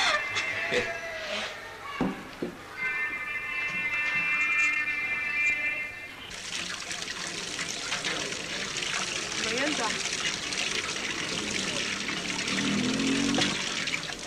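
Water running from an opened tap in a home, a steady hiss that starts partway through and continues under people talking in Arabic, with a brief whistling tone beforehand.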